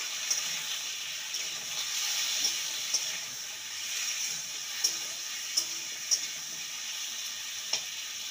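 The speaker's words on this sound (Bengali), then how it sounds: "কাঁকরোলটা ভাজা হতে থাক" Spiny gourd fries in a pan with salt and turmeric, giving a steady soft sizzle with occasional sharp pops and crackles, quiet and continuous with no talking.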